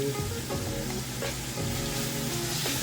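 Celery, parsley, basil and leek sizzle steadily in a hot pan for poulet DG, a close, even frying hiss with soft stirring scrapes.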